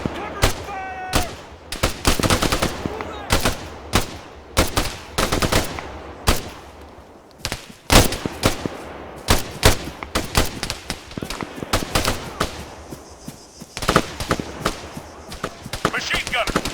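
Video game battle gunfire crackles in rapid, irregular bursts of sharp shots and machine-gun rattles throughout, loud and close, with occasional player voices under the shooting.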